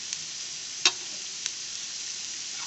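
Garlic sizzles steadily in hot oil with light golden-brown onions in a pan for chana dal tadka, a close continuous hiss broken by a couple of soft clicks from stirring.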